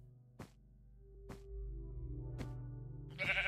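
Sheep in a video game bleat several times in a row, with short nasal cries spaced about a second apart over a low steady hum and a brighter final call.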